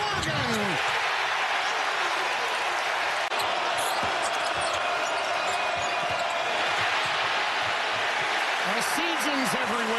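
A basketball arena crowd at a Nebraska NCAA game roars continuously and loudly throughout, a dense sustained cheer with a commentator talking over it.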